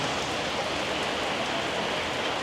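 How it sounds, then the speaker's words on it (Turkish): Heavy rain pours down steadily during a deadly Sri Lanka flood, a dense, even hiss of drops hitting surfaces that fills the whole stretch with no pause and no voices. "Yağmur bu şekilde abi."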